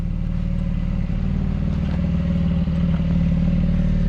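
Idling Porsche 718 Cayman GT4 in Miami Blue with a newly fitted aftermarket exhaust, giving a steady, close, low burbling drone with a faint rhythmic pulse and no speech.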